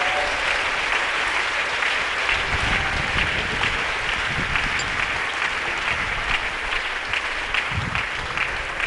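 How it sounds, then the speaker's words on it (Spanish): A church congregation applauds steadily throughout, a dense, even wash of many hands clapping in a large room, with a few faint low murmurs beneath. "No sé si quiere darle un aplauso al Señor a esta hora"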